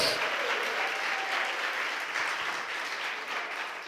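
Sustained applause from a church congregation, steady clapping filling the space for several seconds at a moderate distance.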